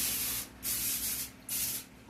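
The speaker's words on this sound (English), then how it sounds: "Let me spray my pan." Cooking spray hisses onto a pan for an enchilada slow cooker meal in two close, loud bursts with a pause between them, over a low hum.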